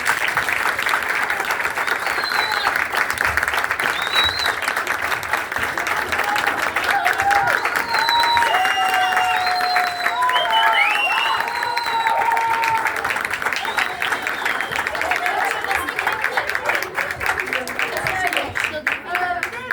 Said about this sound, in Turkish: Emekleri için, çabaları için performansları için kocaman bir alkışlar.